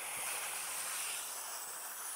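A Shark steam mop cleaning dark tile releases a steady, broad hiss of steam, continuous and even for a couple of seconds, close and moderately quiet, with no talk.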